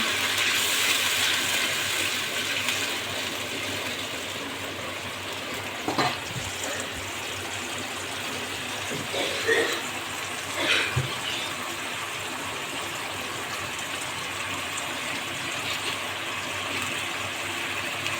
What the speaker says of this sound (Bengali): এবার এর মধ্যে আমি হালকা একটু জল দিয়ে দেবো।